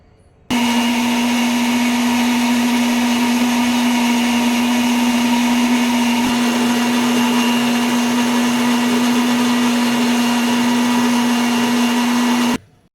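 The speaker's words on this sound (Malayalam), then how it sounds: "അപ്പോൾ അതൊന്ന് അരച്ചിട്ട് വരാം" Mixer grinder blending cumin and coarse chili powder into a paste, a loud steady motor whine running continuously for about twelve seconds before cutting off abruptly.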